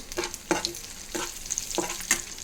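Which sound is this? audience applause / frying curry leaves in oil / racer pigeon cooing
frying curry leaves in oil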